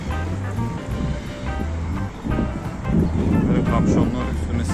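Sea waves wash onto the shore at Cape Town on a cool morning, a steady broadband surge with swells building louder toward the end, blended with wind and a faint low hum.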